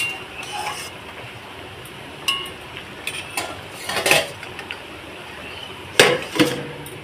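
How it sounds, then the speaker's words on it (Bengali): A spoon stirs a banana-stem and rice curry in a metal pot, then a lid is set on top, giving a few sharp clinks and clatters over a quiet kitchen background. "দেওয়ার পরে আবার একটু হালকা হাতে নেড়ে দেবো, দিয়ে আবারও আমি ঢাকা চাপা দিয়ে দেবো।"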